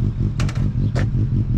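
A motorcycle engine at an outdoor vintage vehicle display in Castlerock holds a steady, loud, low rumble, broken by two short, sharp bursts of clatter as the throttle blips.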